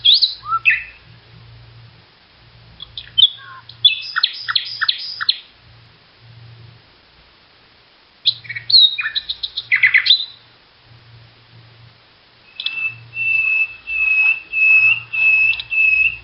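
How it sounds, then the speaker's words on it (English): Several songbirds chirp and sing outdoors in bursts of bright, high warbling trills and whistles, with pauses between phrases and a steady repeated whistled note near the end, no voices present. "We all are definitely missing the sweet melody of birds merrily singing"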